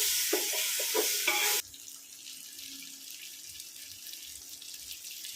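Ginger garlic paste fries in a pan with a loud burst of sizzling and scraping stirs at first, then settles into a quieter, steady low crackle for several seconds.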